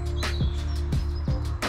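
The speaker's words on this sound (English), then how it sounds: "Blue tits, sparrows, robins" Small garden birds, including blue tits, sparrows and robins, give quick high chirps and tweets in a rapid, irregular series, close and clear over a low steady background hum in a park.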